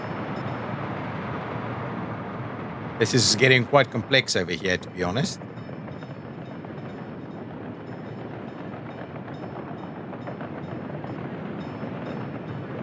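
A train in the city-building game Workers & Resources rumbles along steadily in the background, a soft, continuous rolling noise, while someone talks briefly over it.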